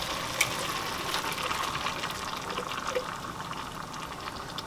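Thick canned beans pour and slide steadily into a pot, close and fairly quiet, with faint wet plops and clinks.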